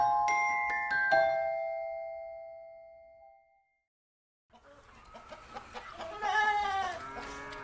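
A hen clucks in short, uneven bursts, rising in the second half after a pause that follows fading chime-like musical tones.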